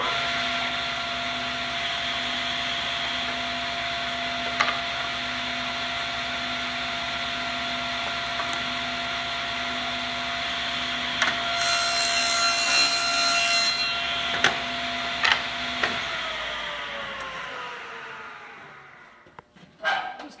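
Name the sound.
table saw cutting wood to width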